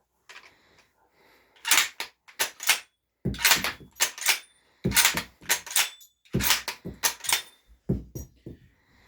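Dud rifle rounds are cycled through a bolt action several times, producing a series of close, loud metallic clacks and sliding clicks in grouped bursts with brief gaps between cycles.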